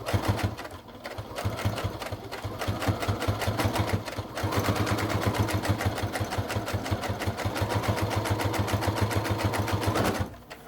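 A sewing machine runs a continuous straight seam on fabric for an armchair caddy, its rapid even needle chatter close and steady for about ten seconds before stopping.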